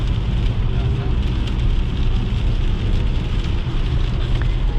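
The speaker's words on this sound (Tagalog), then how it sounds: "At umulan na." Steady rain hissing and pattering continuously on a moving vehicle during a long highway drive in Saudi Arabia, with a low rumbling road or engine noise underneath throughout.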